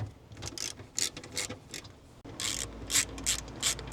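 A hand ratchet clicks in quick, uneven bursts as bolts are loosened on a 2025 Toyota RAV4 XLE hybrid during a horn swap, close and fairly quiet with brief pauses between runs.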